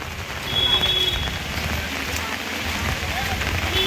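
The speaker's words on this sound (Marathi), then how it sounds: "जसं आता पाऊस पडतोय" Heavy monsoon rain pours steadily at the Rajapur weekly market beside a river, a loud dense hiss filling the whole clip with faint voices underneath.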